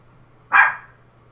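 A single sharp dog bark rings out close by against a quiet background, loud and brief, with no other voices around it.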